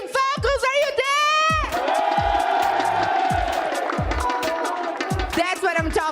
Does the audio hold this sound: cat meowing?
no